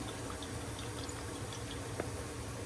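Water used to rinse out a gravy jar poured into a pan for Salisbury steak: a low, continuous splashing trickle, close and fairly quiet, with a single soft knock near the end and no talking.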